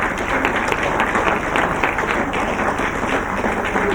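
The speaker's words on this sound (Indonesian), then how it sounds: "Tepuk tangan." Studio audience at a comedy quiz show bursts into steady, dense applause, a close and even wash of many hands clapping that continues without a break.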